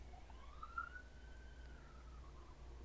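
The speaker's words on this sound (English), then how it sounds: "Just a lot of police cars." A police car siren wails faintly in the distance, one rising and falling sweep over a steady low background hum, with no talking.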